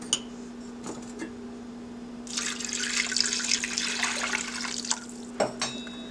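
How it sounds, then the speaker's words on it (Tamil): Water streams into a pressure cooker over soaked chana dal for a Tamil banana kuzhambu, a steady splashing pour lasting a few seconds under a constant low hum, with brief clinks before and after. "நல்லா பருப்பு முங்குற அளவுக்கு தண்ணி வச்சுட்டு குக்கரை மூடி விசில் வச்சிடலாம்"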